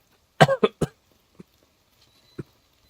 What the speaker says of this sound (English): My cough has gotten worse today.